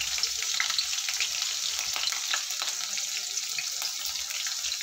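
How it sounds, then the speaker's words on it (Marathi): Chopped green chillies tossed into cumin seeds in hot ghee for sabudana khichdi give a steady, crackling sizzle with scattered pops, close and even throughout, with no speech. "जिरे फुललं की यामध्ये आपण ही चिरलेली मिरची टाकून द्यायची।"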